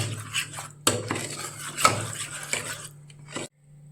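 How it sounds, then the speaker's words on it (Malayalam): Pressure-cooked green mango being strained through a sieve for a traditional mango sweet, heard as a run of sharp metallic clinks and scrapes of utensil against sieve and pan at irregular intervals, close by with no talking. "ഇനി നമുക്കിത് അരിപ്പ് വെച്ച് അരിച്ചെടുക്കണം"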